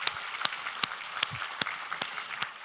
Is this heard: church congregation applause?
yes